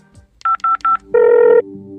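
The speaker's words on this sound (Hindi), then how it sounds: "और उसने तुरंत किसी को कॉल मिला दिया।" A phone being dialed: three short, evenly spaced keypad tones, then a longer steady tone, loud and close with no talk.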